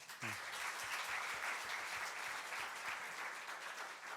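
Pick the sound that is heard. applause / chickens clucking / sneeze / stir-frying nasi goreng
applause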